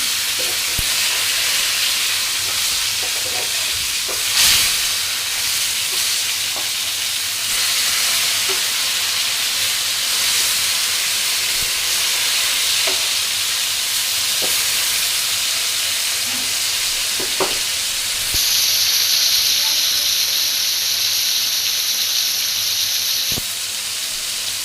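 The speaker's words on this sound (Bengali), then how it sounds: "আর একটু লাল করে ভেজে নিব মাছগুলোকে" Tilapia pieces frying in oil, a long, even hiss of sizzling fat with occasional pops and soft clicks, steady and close throughout.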